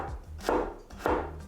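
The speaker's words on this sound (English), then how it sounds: "Then lay those chunks down and cut into thin quarter-inch thick slices." A knife slices chunks of pork into thin quarter-inch slices on a cutting board, two crisp, close chops about half a second apart, with no talking.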